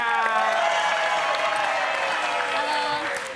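Studio audience applause and cheering on a comedy talk show, a continuous crowd wash under bright music-like tones and voices, fairly loud and steady before tapering at the end.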